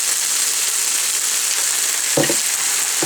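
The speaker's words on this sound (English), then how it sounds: "Get some garlic in there, probably about the same thing, 2 to 3 cloves." Two to three garlic cloves sizzle and fry steadily in a pan, a dense, even hiss held close up, broken near the end by a couple of soft scraping stirs.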